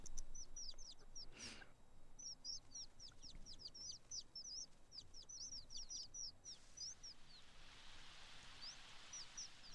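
Chickens cluck and chirp in a farm setting in The Sims 4 video game, a string of short, high, faint calls repeating over a quiet background hum.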